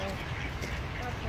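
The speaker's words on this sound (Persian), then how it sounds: "مرغابی هایی که اینجا هست" Ducks on a pond in Uppsala, Sweden, in winter quack under a voice, with a few calls mixed into steady close outdoor noise.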